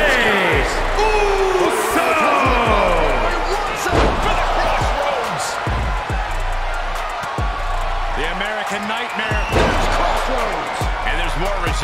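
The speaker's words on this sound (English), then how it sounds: "Just listen to the crowd!" A loud arena crowd in the wrestling game WWE 2K24 roars continuously while heavy slams and thuds hit at intervals, with an excited voice calling over the noise.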